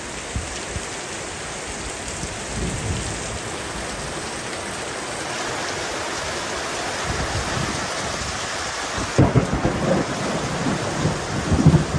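Heavy rain pours down during an Arizona thunderstorm, a loud constant hiss of drops with rumbling thunder rolling through and a sharper crack near the end, runoff water rushing nearby.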